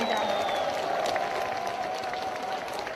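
Crowd applause at a campaign rally for candidate Hong Joon-pyo in Daegu's Seomun Market, broad clapping and crowd noise filling the space, with a sustained tone running underneath.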